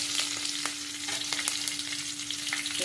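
Green chilies fry in a pan with a steady, close sizzle broken by frequent small crackles and pops, with no voices.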